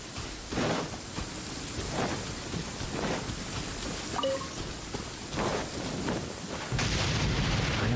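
Thunder rolls through a rainstorm in Genshin Impact, several deep booming rumbles rising and fading over a continuous hiss of rain, with a heavier crack near the end; no voices.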